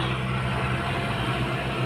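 A walking tractor's small engine works a muddy rice paddy, a steady close low rumble with a pulsing idle-like drone running unbroken throughout.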